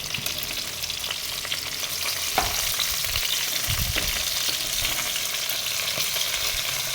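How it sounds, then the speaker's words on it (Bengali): Fish frying in a pan gives a steady, close sizzle that runs unbroken throughout, with a few soft stirring knocks and no talking. "এদিকে বসিয়েছি মাছ ভাজা।"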